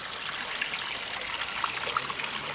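Water trickles at a light flow from an on-off valve on an aquaponics strawberry tower, a faint continuous dribble with small splashes and no talking.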